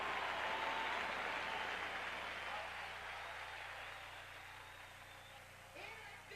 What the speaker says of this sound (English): Crowd rising now at Dodger Stadium in L.A.